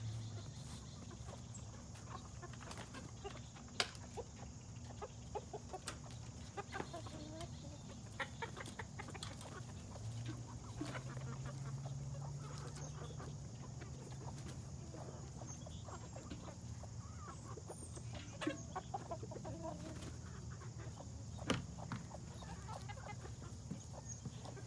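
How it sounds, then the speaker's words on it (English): Chickens cluck softly and intermittently inside a farm coop, faint and scattered over a steady low background hum with occasional knocks. "Oh, we got an interloper chicken in here."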